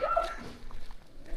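A dog at a hillside temple in the Western Ghats gives a few short, fairly close barks and yips, with some whimpering in between.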